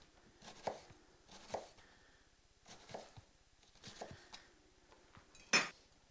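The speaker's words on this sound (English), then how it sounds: "And then just chop into small bits, and there's your diced onion." A knife chops onion into small dice on a board with spaced, soft thuds about once a second, each carrying a slight clink. The sound is quiet and close, and one last hit is sharper.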